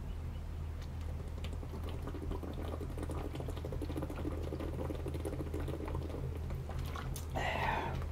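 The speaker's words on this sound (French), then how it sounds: "Mais ça y est, il pleut." Steady rain falling on a forest hike, a dense continuous patter of drops filling the scene at even loudness, with a brief rustle near the end.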